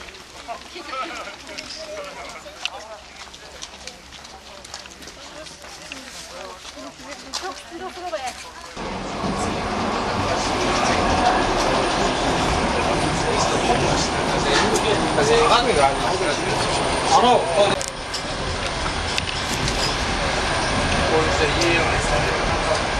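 Passenger train bound for Turkestan running on its rails, a continuous rumbling roar that grows louder after the first third, with someone talking over it.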